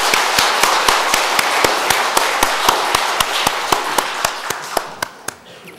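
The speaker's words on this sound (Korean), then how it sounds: "우리 임마누엘 찬양대 위해서 한번 큰 격려의 박수 부탁드리겠습니다." A church congregation claps in a steady, even rhythm for the Immanuel choir. The sharp, close claps slow and fade near the end.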